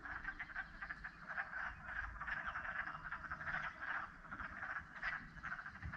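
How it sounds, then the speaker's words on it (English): A dense chorus of frogs croaking continuously in south central Alaska, many overlapping calls pulsing steadily in the distance with no talking. "can you hear it? It's not a bird. They are frogs."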